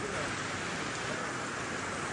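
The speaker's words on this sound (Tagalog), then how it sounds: "umuulan oh" Steady rain falling outdoors near a market, a continuous hissing wash of drops on surfaces, fairly loud and even throughout with no break.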